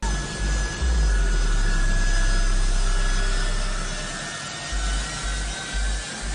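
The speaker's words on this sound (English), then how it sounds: "This plane's about to take off." Engines of a large plane roar before takeoff, a loud, sustained rumble with a deep low drone that swells and then eases slightly, heard without speech.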